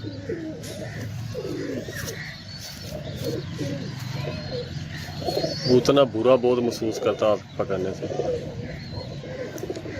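A red-footed, waxy-beaked Teddy Cross pigeon coos softly and repeatedly nearby while someone talks over it throughout.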